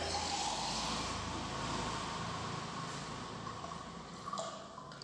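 Water poured into a 400 ml glass beaker in a lab setup, a steady continuous splashing and filling sound that carries through the whole stretch at moderate level, with no talk.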